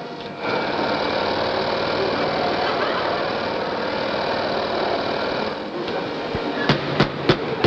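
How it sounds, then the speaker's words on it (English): A nearby electric motor starts up and runs as a loud, steady mechanical whir, then a few sharp knocks land near the end. "There's an electric motor running somewhere."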